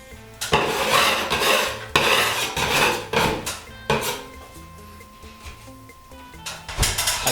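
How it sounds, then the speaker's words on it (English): Scraping a plaster ceiling around a hole with a hand tool, a close, continuous rasping scrape in long strokes with a few short pauses and light knocks. "And then we'll simply give a scrape"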